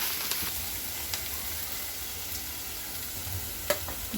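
Tomato sautéing in a pan with oregano seeds and black pepper powder, a continuous close sizzle and fry with occasional scrapes and taps of a stirring spoon, no talking.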